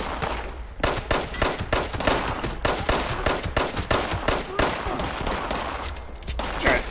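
Rapid bursts of gunfire in Fallout 76 crackle continuously, with sharp, dense shots and occasional pauses, loud and close throughout.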